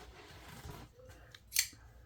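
A knife blade slices through cheap, flimsy paper in a few quiet cuts, ending in one brief, sharp rasping swipe near the close.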